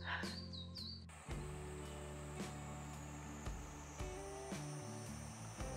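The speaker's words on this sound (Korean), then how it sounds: "여기 새소리 너무 예쁩니다." Brief high bird chirps ring out in a mountain forest at the start, then fade behind a low, steady hum and rumble.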